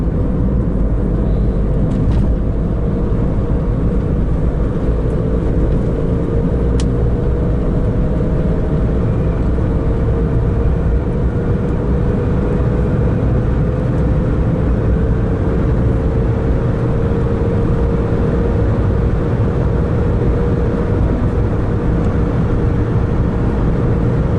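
A car driving along a road toward the small French town of Angles-sur-l'Anglin, heard from inside as a steady low engine and tyre rumble that carries on unbroken, with no one talking.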